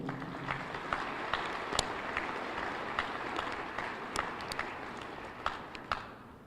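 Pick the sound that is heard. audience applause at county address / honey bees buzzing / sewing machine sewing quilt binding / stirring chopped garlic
audience applause at county address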